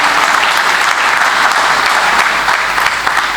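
An audience greets a politician from Uttarakhand with loud, vigorous applause, a thick continuous roar of clapping that stays strong and even throughout.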